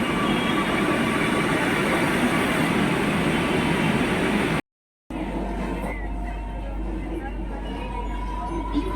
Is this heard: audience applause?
no